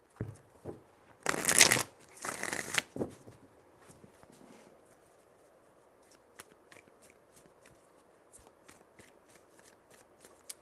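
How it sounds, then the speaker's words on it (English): Tarot cards are shuffled in two quick riffling bursts up close, followed by soft tapping and handling of the deck in a quiet room. "Three shuffles."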